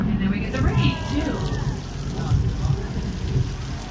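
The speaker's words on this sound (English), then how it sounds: "you can see we have some lightning flashes, you can hear the thunder" Steady simulated rain hiss with low rumbling simulated thunder beneath, a special effect on the Universal Studios tram tour, continuous and fairly loud, with some indistinct voices mixed in.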